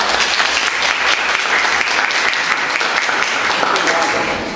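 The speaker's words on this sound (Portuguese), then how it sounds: "Aplausos para o Sr. Taylor." A studio audience applauds a guest on a talk-show-style program, a loud, close, sustained clapping with a brief voice cutting in over it, easing slightly at the close.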